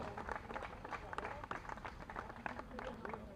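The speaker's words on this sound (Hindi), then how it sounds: "एक बार जोरदार तालियों से आइए, स्वागत।" Applause rises in a legislative assembly hall as members welcome the chief minister, a steady wash of clapping hands with louder bursts, moderately distant, with some voices mixed in.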